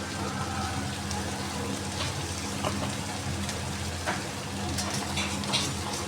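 Whole spices with turmeric frying in a pan, heard as a steady, close sizzle and crackle at a moderate level that holds even throughout, with faint talk in the background.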